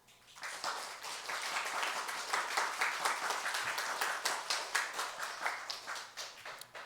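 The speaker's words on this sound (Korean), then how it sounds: "우리 렘넌트들만, 자녀들만 한번 하나님께 영광의 박수를." A church congregation claps together in praise, a dense, even burst of many hands sustained for several seconds in a reverberant hall, no voices over it.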